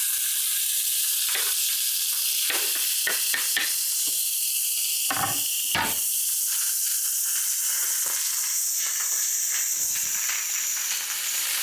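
A steak sears in a hot pan with a loud, constant close-up sizzle and hiss, broken by scattered sharp pops and crackles of spitting fat.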